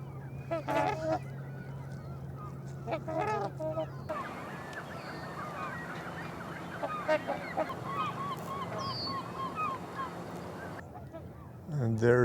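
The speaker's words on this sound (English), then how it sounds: "there's a lot of swans and ducks in front of me now" Loud honking calls of swans and ducks, many birds close by calling repeatedly and overlapping, with outdoor ambience and a low hum at times.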